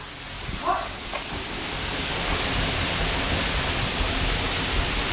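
Steady rushing water from a waterfall roars continuously, a broad constant wash of sound with a brief faint voice near the start.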